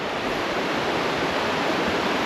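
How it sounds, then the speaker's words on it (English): Fast-flowing creek water along a forest walking path in northwest British Columbia, rushing in a steady, loud, unbroken wash with no pauses or voices. "let's just have a look at how fast this water is moving right now"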